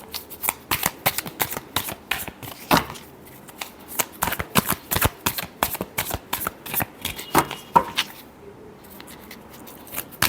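A deck of tarot cards is shuffled again and again in quick riffling bursts, close and crisp, with brief pauses between runs and no talking.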